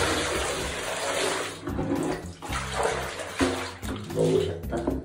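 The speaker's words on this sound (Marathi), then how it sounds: "तर अशा प्रकारे आपल्याला हे पाणी यातून शॅम्पू बाहेर काढून टाकायचं।" Water is run through a helmet's inner padding to rinse out shampoo, a continuous close rush and splash of flowing water that surges and dips throughout.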